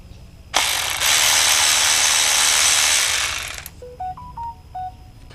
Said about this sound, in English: You can use a 10 millimeter wrench.